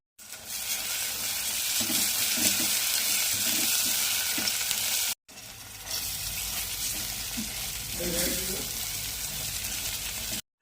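Onion frying in a pan with ginger, garlic and chilli paste, a steady sizzle with stirring and scraping that briefly cuts out midway and then resumes, with no voices.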